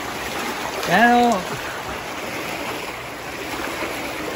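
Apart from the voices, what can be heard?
floodwater flowing through a flooded neighborhood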